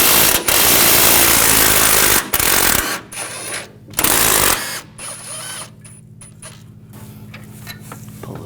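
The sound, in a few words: removing engine mount bolts with 15mm socket ratchet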